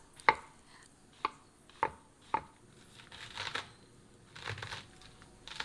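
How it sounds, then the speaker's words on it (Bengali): A kitchen knife cuts into a whole pineapple and peels the rind from its sides for a mixed fruit chutney: four sharp, distinct chopping strokes, then softer, scattered scraping and rustling close by, with no talk. "দেখুন কিভাবে আমরা আনারসটা কাটছি"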